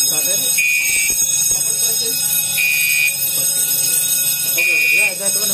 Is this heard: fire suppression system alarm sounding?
yes